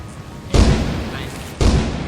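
Two heavy thunderclaps from lightning strikes in the video game Lethal Company, each a sudden loud boom with a rumbling tail, about a second apart, over a noisy background.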